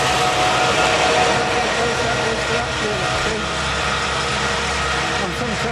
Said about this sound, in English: Here comes the tractor now, cutting.